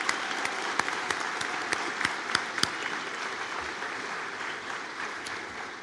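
An audience at a fall graduation ceremony applauding, a steady wash of many hands clapping in a large hall, with a few sharper claps standing out, then slowly easing off.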